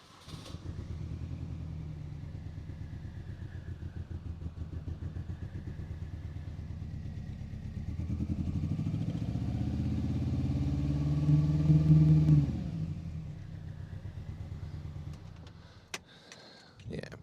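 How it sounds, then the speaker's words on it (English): Rebuilt Mini Cooper S R53 engine, run briefly without coolant, idles roughly after starting: a steady, close, lumpy low rumble that swells slightly midway before settling, with voices briefly over it. "let me quickly start the car and show you what it's doing"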